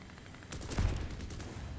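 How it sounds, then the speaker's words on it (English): Cannon fire in a jet combat video game, a short muffled burst of rapid thuds heard faintly under the game's background noise. "I'm hearing those chonk chonks of cannons."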